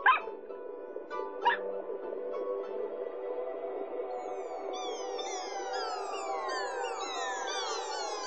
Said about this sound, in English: Little dog Fido